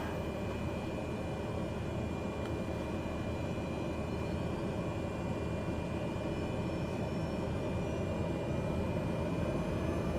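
Propeller aircraft engine at low idle with the parking brake off, a continuous broadband hum and whir holding steady and moderately loud throughout, with no voices.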